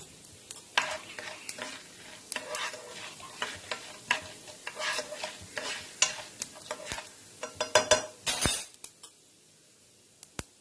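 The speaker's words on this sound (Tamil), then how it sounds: "ஃபர்ஸ்ட் கடலை பருப்பு சேர்க்க போறோம். சேர்த்துக்கலாம். கடலை பருப்பு கலர் மாறினதும்" Chana dal frying in oil in a pan for kara paniyaram, with a soft sizzle under repeated scraping and clinking stirs of a spoon against the pan, close by and irregular.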